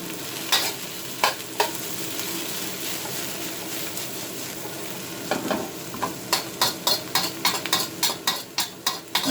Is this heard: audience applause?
no